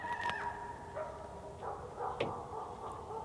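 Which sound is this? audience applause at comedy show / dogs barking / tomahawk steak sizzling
dogs barking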